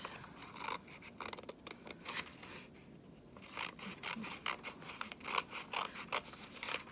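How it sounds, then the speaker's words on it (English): Scissors cut slits into a sheet of paper for paper weaving. Close, crisp snips and rasping slides come in quick bursts, with a short pause partway through. "I am then going to cut along my lines, I don't want to cut my paper into strips."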